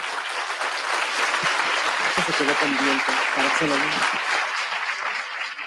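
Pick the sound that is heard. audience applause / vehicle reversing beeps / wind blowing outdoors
audience applause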